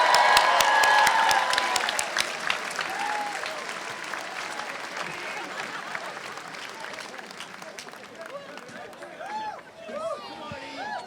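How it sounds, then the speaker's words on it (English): A political rally crowd in Gateshead, North East England, applauds loudly at first, with cheers and a whistle, then the clapping thins and fades over about eleven seconds as the next speaker begins talking over it. "Can we give him a round of applause?"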